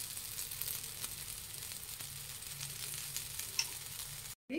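Jackfruit dosa frying in oil on a pan makes a soft, steady sizzle with faint crackles, continuous and close, with a brief cut-out just before the end.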